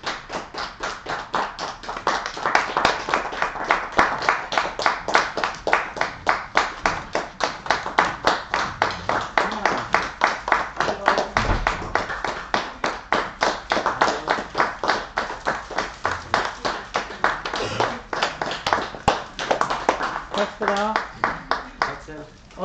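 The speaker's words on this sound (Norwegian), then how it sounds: "så må dere klappe helt til jeg kommer tilbake" An audience at a youth lecture in a library during a freedom of speech festival claps steadily on request, a dense, rhythmic patter of many hands that keeps going for over twenty seconds at a fairly even level.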